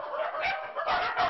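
Several dogs bark loudly and continuously in the yard of a multi-dog hoarding house that holds more than sixty dogs. The barks overlap in a dense, close chorus with a few sharper bursts.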